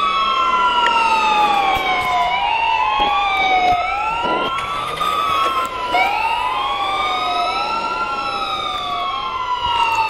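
An ambulance siren in a Roblox game wails loud and close, with overlapping rising and falling sweeps repeating continuously throughout.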